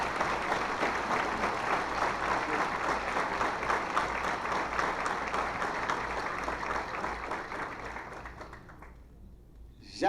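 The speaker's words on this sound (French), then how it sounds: "je demande à l'assistance de bien vouloir se joindre à moi pour leur signifier notre appréciation par de chauds applaudissements" A crowd applauds warmly and steadily in a hall for about nine seconds before the clapping abruptly fades out.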